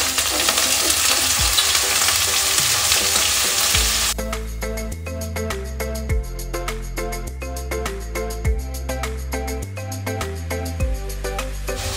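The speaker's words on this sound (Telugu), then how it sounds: "పొటాటోస్ని మనం దీంట్లో బాండీలోకి వేసుకుందాం" Cut potatoes sizzle in a frying pan with a loud, dense hiss for the first four seconds, then music takes over and the frying drops out of the foreground.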